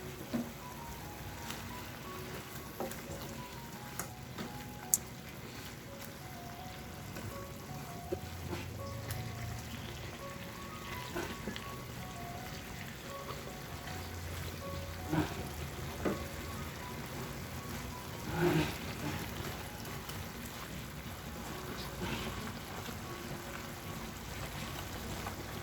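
Pork adobo bubbles in a pot on the stove, a faint steady simmer of popping and crackling with occasional light clinks as it is stirred, and no talking.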